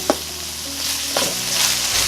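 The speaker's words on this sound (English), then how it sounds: "what you want to do now is actually just stir fry it together" Food sizzles steadily in a hot pan while it is stir-fried with jarred sauce, with a few soft scrapes of the utensil against the pan over the continuous hiss.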